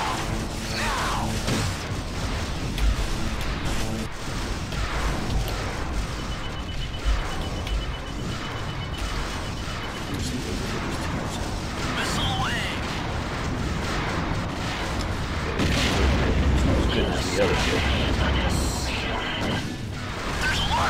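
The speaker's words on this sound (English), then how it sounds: "Launching missile." Missile launch and explosions in the space combat game Wing Commander Prophecy, a dense, loud stretch of booms, crashes and mechanical rumbling that runs continuously, with occasional radio voices mixed in.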